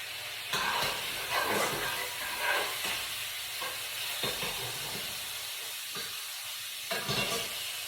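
Salmon and prawns in cream sauce bubble and hiss in a pan while a spoon stirs in bursts, scraping sounds rising and falling over a steady close simmer.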